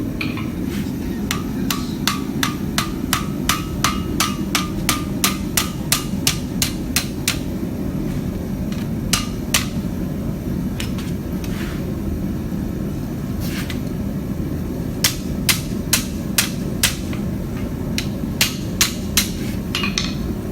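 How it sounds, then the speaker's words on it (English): A rounding hammer strikes a steel chef's knife blade being forged on an anvil, a loud close run of sharp metallic blows in quick bursts with short pauses, over a steady background roar. "I'm directing the materials, the metal, the steel, the bronze, whatever I'm forging into the shape that I want."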